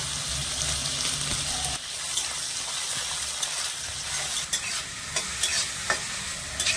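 Small diced potatoes and carrots stir-fried in a pan for a savory semolina dish, with a soft continuous sizzle, scraping stirs and a few sharper clicks of the spatula against the pan, close and fairly quiet.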